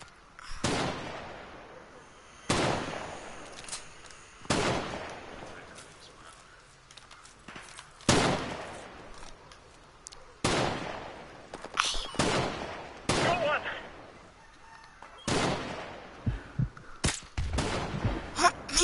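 Gunfire in the Call of Duty Modern Warfare campaign, with rifle shots including AK-47 bursts cracking out as sharp, loud blasts every couple of seconds, thickening into rapid volleys near the end, while voices speak in between.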